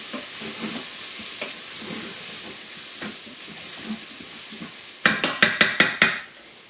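Tomato paste and harissa sauce sizzling in a pan, a soft steady hiss with light spoon scrapes, then a quick run of six sharp metallic taps and scrapes against the pan near the end.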